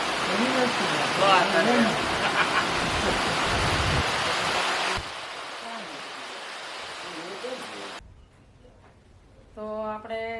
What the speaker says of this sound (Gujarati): વરસાદ આવી ગયો જોરદાર